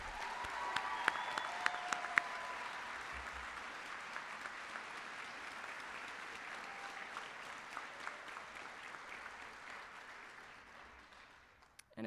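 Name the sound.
applause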